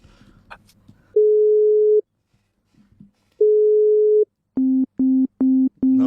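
Phone call tones: two long steady ringback beeps separated by a pause, followed by a run of four short, rapid, identical beeps, loud and close with a little faint background noise before them.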